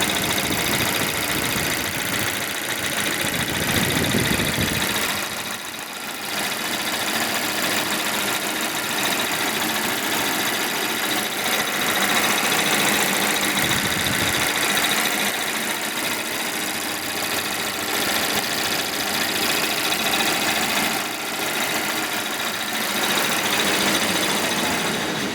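A rebuilt Volvo XC90 B4204T35 engine idles steadily for the whole stretch, a continuous broadband mechanical hum with faint knocking texture and an unexplained noise, recorded close up with no voices.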